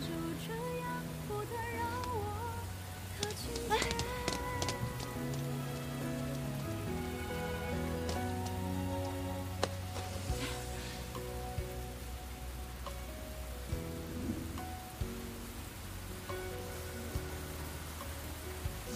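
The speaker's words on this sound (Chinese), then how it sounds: "下这么大雨" Heavy rain falls steadily and evenly throughout, a continuous wash of drops under a sustained musical score in a drama scene.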